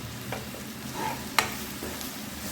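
Besan being stirred into an onion-tomato masala for egg masala, with soft scraping stirs over a faint sizzle and one sharp clink midway. The sound is quiet and close, with no voices.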